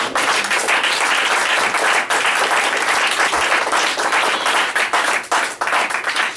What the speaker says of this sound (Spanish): denle fuerte ese aplauso